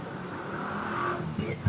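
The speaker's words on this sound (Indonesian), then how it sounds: "kendaraan yang melintas di bawah jembatan flyover ini didominasi oleh kendaraan roda 2" Traffic rumbles beneath a flyover on the Pantura road, mostly motorcycles with some private cars, a steady continuous wash of engine noise with a faint pass swelling near the end.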